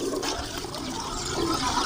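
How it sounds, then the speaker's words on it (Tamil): Fenugreek is poured into boiling water in a pot, making a steady, moderately loud bubbling and rushing of liquid for about two seconds. "நல்லா தண்ணி கொதிக்குது. ஆட்டி வச்சு வெந்தயத்தை ஊற்றிக்கலாம்."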